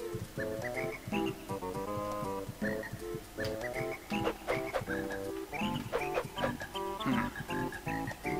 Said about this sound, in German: Vor allem, wo sind die Frösche?